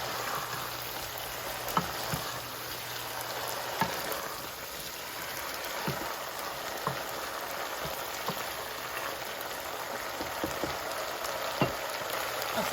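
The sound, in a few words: mash dal frying in a pan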